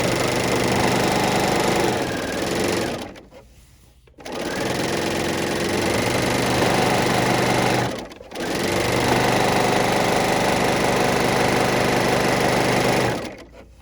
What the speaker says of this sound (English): I didn't even bother specifically cutting this because I let my serger go